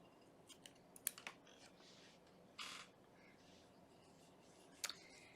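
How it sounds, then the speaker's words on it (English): Scissors snip off an excess yarn tail on a crochet Christmas pillow bow, giving a few faint, sharp clicks in a quiet room, with brief faint sounds between them. "And now I'm going to trim off that excess yarn from my little tail."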